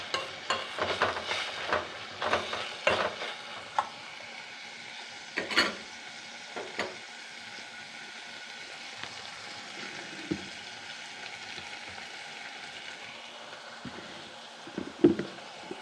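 Chopped tomatoes sauté in a pan for chapati fry, a faint steady sizzle beneath intermittent scraping and clinking as a spoon stirs against the metal.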